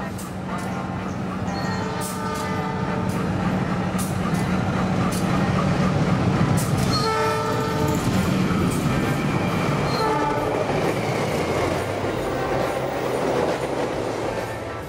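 A passenger train in Indonesia rumbles along with a steady rattle and clatter of wheels on track while its horn sounds in long tonal blasts, loud and close for most of the stretch.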